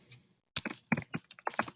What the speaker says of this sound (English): We also learn how to type.